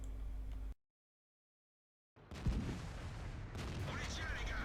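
A tank cannon fires in World of Tanks, one sharp heavy blast breaking out after a moment of silence, followed by rumbling battle ambience and engine noise.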